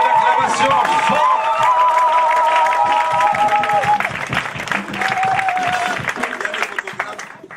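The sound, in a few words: applause and cheering for the couple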